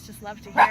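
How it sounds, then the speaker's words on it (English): A pet dog gives a single short bark close by, rising briefly over a person talking. "That's my dog barking there."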